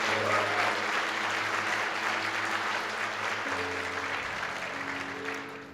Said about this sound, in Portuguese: dê um aplauso ao Senhor Jesus